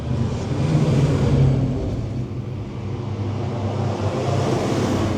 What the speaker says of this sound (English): Hang on, there's a tractor coming.